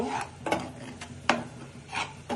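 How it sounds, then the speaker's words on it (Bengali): Spice paste with olives being stir-fried in a pan for a fish and fried rice dish, giving scraping, rubbing strokes of a spatula against the pan in an uneven rhythm, close and fairly quiet. "এখানে জলপাই আর মশলাটা একটু কষিয়ে নিব"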